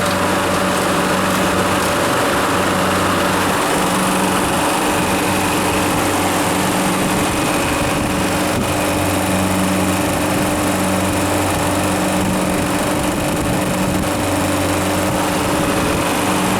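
A refrigeration air compressor with a weak pump runs continuously nearby, a steady loud mechanical hum and buzz with a faint rhythmic pulsing throughout, no voices.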